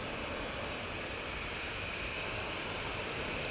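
EasyJet Airbus A321neo taxiing at Manchester Airport, a steady broad jet-engine roar with a high whine, heard from a distance and unchanging throughout.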